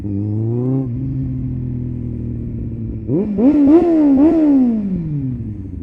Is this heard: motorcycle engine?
yes